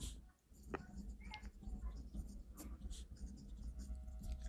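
A pen scratches across paper in short strokes and taps, faint and close, with a low room hum underneath.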